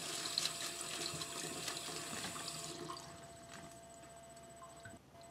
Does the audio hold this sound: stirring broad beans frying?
no